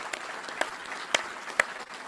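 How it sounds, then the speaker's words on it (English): Light, distant applause from a small crowd at a US Army Cyber Command change-of-command ceremony at Fort Gordon, a soft patter with a few sharper claps standing out. "So big round of applause for all of them, please."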